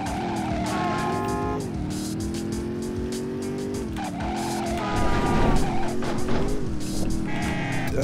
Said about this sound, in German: Ich muss glaube ich hier echt ein bisschen mehr mit der Handbremse fahren